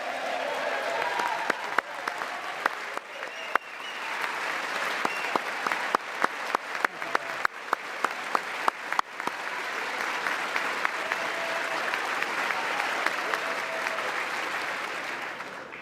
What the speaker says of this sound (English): With the name Kennedy, you would have thought everybody over here would have been cheering